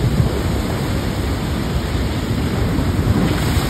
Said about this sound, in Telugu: ఇదే వాటర్ ఎట్లా అంటే అట్లా కొడుతుంది ఆ రాళ్ళ మధ్యన